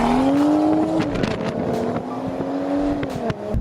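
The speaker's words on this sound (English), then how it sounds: "the N55 has a really nice inline-6 turbocharged sound, especially with the M Performance exhaust" A BMW 435i with an N55 turbocharged inline-six and M Performance exhaust revs up in rising pulls, then eases off and climbs again. The engine tone is near and strong, with crackles between the pulls.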